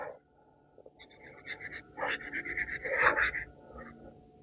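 A dog pants in quick, breathy bursts close by, with soft whimpery tones mixed in and low background rumble.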